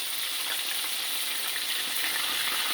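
Catfish fillets fry steadily in hot oil, a continuous bright sizzle that holds at an even level throughout with no voices over it.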